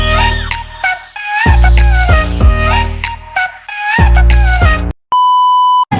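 Upbeat music plays, then cuts to a single sustained, loud censor beep tone that holds for under a second before a short break at the end.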